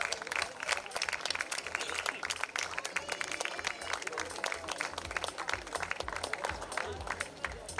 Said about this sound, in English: Request everyone to please give a round of applause.